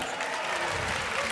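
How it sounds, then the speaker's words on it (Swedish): An audience at the SMASK Malmö 2019 event breaks into steady, dense applause, a brief burst of many hands clapping together at close range, filling the room evenly from start to finish. "En applåd för det!"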